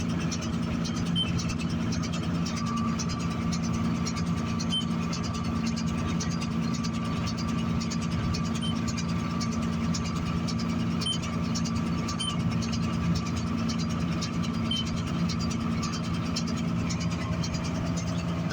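A Vermeer 605K round baler runs behind a John Deere 4240 tractor during hay baling. A steady, droning engine and machinery rumble holds constant throughout, with faint rhythmic mechanical ticking and no voices.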